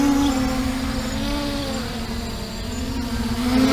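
An MJX Bugs 3 quadcopter drone buzzes steadily nearby, its high whining motor tone wavering slightly in pitch as it flies forward.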